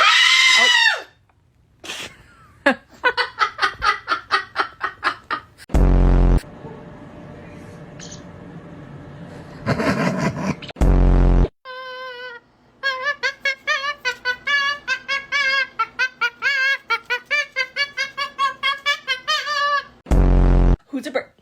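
A pet parrot screams at close range, loud harsh shrieks broken by long rapid runs of repeated squawks and chatter, fading to short pauses between bursts.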